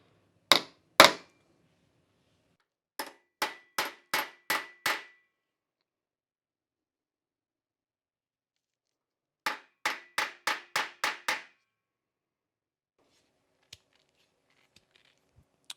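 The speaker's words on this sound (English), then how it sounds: "I'm just going to try to hammer that out." Hammer blows on a metal decklid release tube from a Porsche 356, knocking out a fatigued crook: two sharp strikes, then a quick run of five, a pause, and another rapid run of six close, ringing taps, with no talking.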